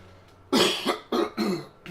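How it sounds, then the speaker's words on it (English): Three harsh coughs close to the microphone, the first loudest, spaced roughly half a second apart, with no talking. "this cough is just killing me."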